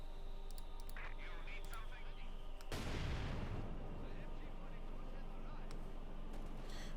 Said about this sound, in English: Mortar fire there as Dave was able to steal Cruzz's mortar.